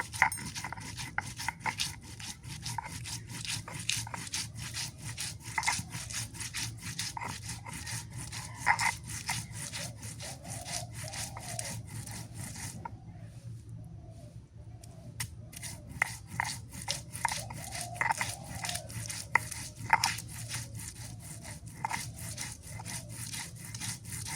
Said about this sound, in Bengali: জিরা রসুন আদা এক জায়গায় নিছি বেটে নি